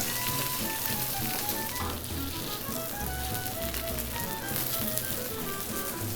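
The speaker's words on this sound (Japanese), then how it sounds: "ちょっと皮目をしっかり焼くとこういうおいしい色がついてくると思いま" Bone-in chicken skin sears in oil in a hot pan, giving a dense, steady, close sizzle with crackles throughout and no voices.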